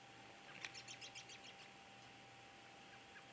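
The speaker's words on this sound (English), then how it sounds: "I can hear the robins in the background." Faint calls of American robins chirp in a quick descending series far off, against a steady background hiss; a few softer peeps follow later.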